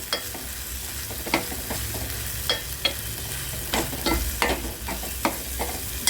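Masala heats in hot oil in a pan while being stirred, a close, continuous sizzle broken by regular scraping knocks of a spoon, with nobody talking.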